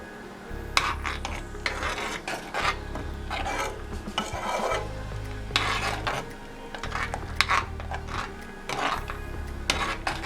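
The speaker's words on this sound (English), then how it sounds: "Now we're going to stir this up." Repeated scraping and rasping of a utensil stirring a boiling pot over a flame, in steady back-and-forth strokes over a low rumbling hum.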